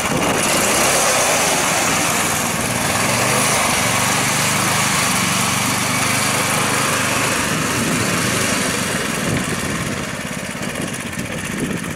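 Small engine on a homemade ice fishing track sled running loud and close, a steady high buzzing drone that holds nearly unchanged throughout.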